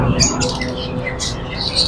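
Green cheek conures squawk in a bird shop, several short shrill calls scattered over two seconds alongside someone speaking nearby.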